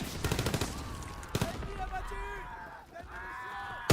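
Rapid rattling bursts of automatic gunfire and single shots in a Call of Duty WW2 match, loud and close, broken by short gaps, with a voice talking over the action.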